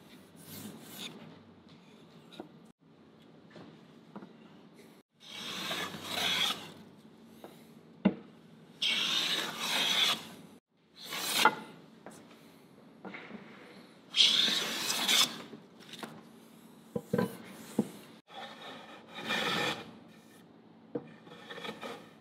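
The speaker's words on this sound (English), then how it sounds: "I'm gonna hand plane all of these surfaces as little as possible" Hand plane strokes across wood surfaces before glue-up, a series of close, soft rasping swishes in irregular bursts separated by quiet pauses.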